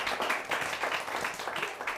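Brief applause from a small group for a man named Imran after he sings a national song, dense clapping lasting about two seconds at moderate level.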